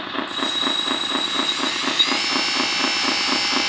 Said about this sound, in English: So let's start this hydraulic motor to see.